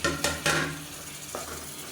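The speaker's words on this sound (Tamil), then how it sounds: "இப்போ இந்த எண்ணெயில் போட்டு வதக்கணும்னா தான் நல்ல ஒரு கலர் கிடைக்கும்" Onions and tomatoes sauté in oil for biryani: a spoon scrapes and clinks against the pan three times in quick succession, then once more, over a soft sizzle.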